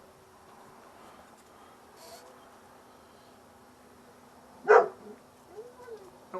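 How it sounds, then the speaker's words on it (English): A single short dog bark rings out nearby, followed by a few softer yips, against a quiet room with a faint voice. "that's my dogs saying hi"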